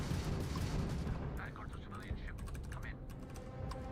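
Spaceship weapons in Starfield fire in a fast, dense volley of crackling shots over a loud continuous roar, with brief voice-like sounds mixed in.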